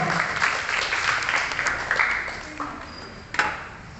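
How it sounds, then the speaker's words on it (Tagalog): A charismatic prayer congregation applauds at a renewal seminar, with a brief round of clapping that fades out, along with a sharp ping near the end. "Palakpakan natin ang ating Panginoon."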